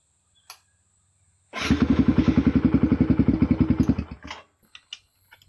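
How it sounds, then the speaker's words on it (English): A Kawasaki KLX 110 dirt bike engine fires up nearby and runs with a rapid, even putter for a couple of seconds while warming up, then cuts out, leaving a few scattered clicks and clunks. "I'm going to warm the engine up for about a minute."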